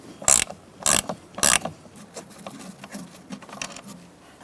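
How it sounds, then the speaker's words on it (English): A 10mm ratchet wrench clicks sharply three times in quick succession while backing out the lower emergency brake cable bolt on a 2002-2006 Honda CR-V, followed by quieter clicking and shop handling noise, close up with no talk. "using a 10mm ratchet wrench, I'm going to take out this bottom bolt for our emergency brake cable."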